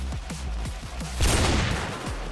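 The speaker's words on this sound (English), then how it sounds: "Oh no, I'm getting shot from everywhere." Roblox Military Tycoon gunfire: several quick close shots in a row, then a burst of heavier crackling fire and blasts.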